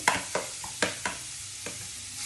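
Grated carrot fries in ghee over a low flame, with a few distinct stirring scrapes and spatula taps over a soft, steady sizzle close by.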